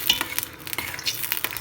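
Tomatoes fry in a pot for Nigerian egusi soup, a steady bright sizzle broken by quick scraping stirs at a brisk, irregular rhythm, close up and alone.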